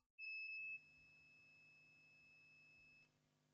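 A multimeter's continuity test gives a single high-pitched electronic beep, probing a TV motherboard transistor drain to source; it sounds steadily for about three seconds, clear and close, then cuts off.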